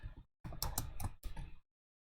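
Close, quiet typing on a computer keyboard in a text editor: a short burst of clustered key clicks after a brief pause, then silence.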